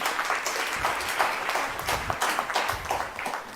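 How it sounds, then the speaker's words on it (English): A small group, mostly parents, claps during a motivational talk, producing scattered, uneven applause from only a handful of hands that continues steadily for a few seconds. "Only parents clapping."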